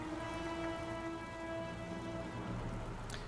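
Steady rain falls in the video game Heavy Rain, a constant hiss of drops over a low hum and faint tonal background, moderately quiet and alone.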